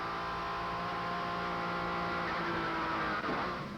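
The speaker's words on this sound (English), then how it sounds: "You can also hear the turbo wastegate chirping away there in the background." Porsche turbo race car running in the wet at an FIA GT race at Sebring in 1997, a steady engine roar with faint turbo wastegate chirping and whistling underneath, fairly distant and continuous.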